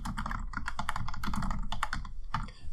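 Fast typing on a computer keyboard while filling in customer details in accounting software, a run of crisp close key clicks in quick irregular bursts with a short pause near the end.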